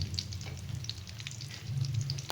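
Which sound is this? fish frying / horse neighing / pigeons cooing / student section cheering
fish frying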